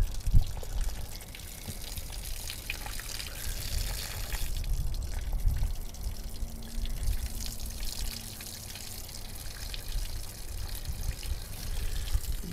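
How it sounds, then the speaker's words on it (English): Water pours and gurgles steadily out of the fresh water tank outlet on a Grand Design Momentum 25G RV, a continuous splashing drain flow with no voices over it. "I'm going to actually drain a couple gallons extra"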